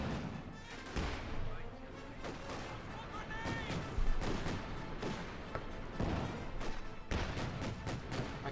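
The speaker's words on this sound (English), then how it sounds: "taking some light fire from the infantry" Infantry gunfire in Company of Heroes 2, with dense rattling small-arms bursts and sharp cracks crowding together amid booming impacts, continuous and busy under a commentator's talking throughout.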